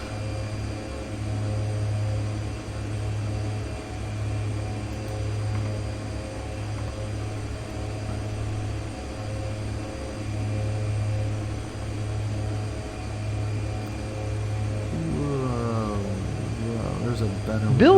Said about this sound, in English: Why does this plane still sound like a Hoover?